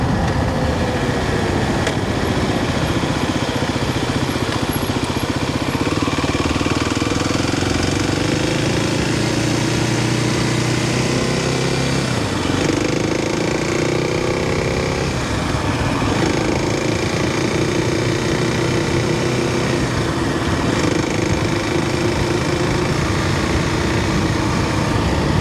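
A Kawasaki KLX 300 motorcycle engine runs steadily and loudly close up throughout, with shifting revs and wind roar as it rides along roads on Oahu, Hawaii.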